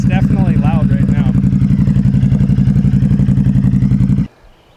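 A cold 2025 Ducati Hypermotard fitted with an SC Project CR-T exhaust idles loud and close with a rough, rapid, pulsing beat. A person briefly talks over it early on, and the engine cuts out abruptly near the end.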